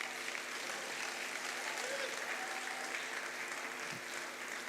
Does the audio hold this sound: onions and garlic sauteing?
no